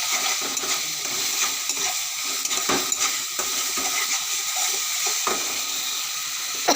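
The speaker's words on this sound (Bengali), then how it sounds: "হালকা জল দিয়ে মশলাটা কষিয়ে নিলাম" Spice paste with a little tomato and water being sautéed and stirred in a pan, giving a steady hiss with intermittent spoon clinks and scrapes up close.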